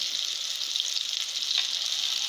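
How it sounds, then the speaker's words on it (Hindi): Shami kebabs frying in a pan: a steady, bright hiss of oil sizzling with slight crackling flutters throughout, close and continuous, with no one talking. "जब आपके शामी कबाब एक तरफ से फ्राई हो जाए तो इन्हें इस तरह से पलट दें।"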